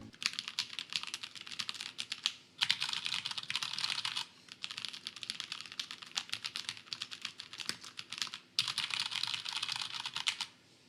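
Fast, continuous typing on a Cherry G80-3000S TKL mechanical keyboard, with bright, loud clacking keystrokes in several bursts separated by brief pauses, close up and without talk.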